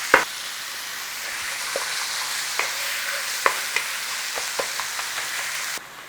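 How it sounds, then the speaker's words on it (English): Ground beef with garlic browning in a pan, a steady soft sizzle broken by scattered scrapes and taps as a utensil breaks up the meat. "Look, in there with our beef. In it goes. Come on. Start breaking it up. Start cooking it down."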